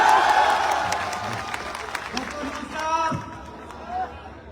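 An audience at a public gathering in Varanasi breaks into applause and crowd noise, loud at first and then thinning out, with voices chattering underneath.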